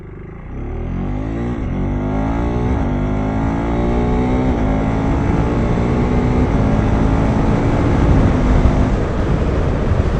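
A KTM motorcycle fitted with a quick shifter accelerates hard, its engine note climbing and briefly dropping with each clutchless gear change in a series of rising sweeps, loud and close.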